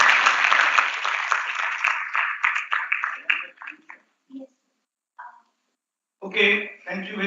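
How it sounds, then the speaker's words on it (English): Conference audience at an economics conclave applauding after a session: dense clapping that fades over about four seconds into a few scattered claps, then silence before a voice starts speaking. "Please give a round of applause for"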